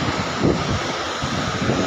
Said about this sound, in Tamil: செம்ம காற்று, அலை எவ்வளோ ஃபாஸ்ட்டாக வருது பாருங்கள்.